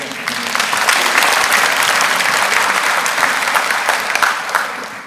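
Church congregation breaks into loud, sustained applause during a Sunday service, many hands clapping together in a full, close wash that swells and then eases off at the end.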